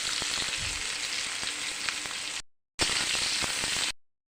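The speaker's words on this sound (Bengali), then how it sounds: "অর্ধেকটা পেঁয়াজ দিয়ে দেবো আমি এর মধ্যে" Chopped onion frying in hot oil with mustard seeds, a dense close crackling sizzle that runs steadily, drops out briefly, then returns.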